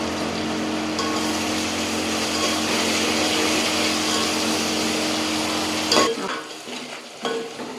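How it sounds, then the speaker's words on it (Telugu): Onions fry in hot oil on a medium flame toward golden brown, a dense steady sizzle with faint stirring that cuts off abruptly near the end, leaving a few clinks and scrapes. "ఆయిల్ వేడవ్వగానే ఆనియన్ వేసుకున్నాను. గోల్డెన్ బ్రౌన్ వచ్చే వరకు మనం వేయించుకోవాలి."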